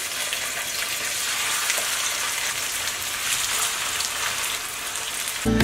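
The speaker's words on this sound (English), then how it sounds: "we are going to start frying our chicken" Steady, dense sizzling and crackling of chicken frying in a hot pan, continuous and fairly loud throughout, with no voices.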